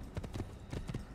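Horse hooves clip-clop in a steady galloping rhythm as a rider travels through an Assassin's Creed game world, several distinct footfall clusters close and clear with no talk over them.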